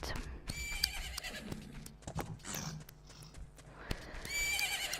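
Epona, the horse in Zelda: Majora's Mask, whinnies loudly and clearly over steady clip-clopping trotting hooves, with brief game sound effects in between.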